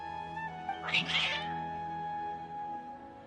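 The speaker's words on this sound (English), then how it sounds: "Your cats seem pretty worked up." Cats in a video game let out a short, agitated meow around the one-second mark over a quiet background tone.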